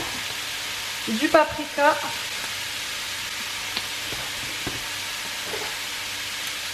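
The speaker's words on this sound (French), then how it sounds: "il faut laisser mijoter jusqu'à ce que ça soit quand même fondant" Seasoned vegetables sizzle steadily in a pan while they are stirred, a constant frying hiss running throughout with a few light scrapes, and a voice speaks briefly over it.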